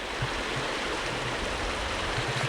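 A creek running high after flooding, eroding its dirt banks, gives off a steady, close rush of flowing water that stays even and unbroken with no voices.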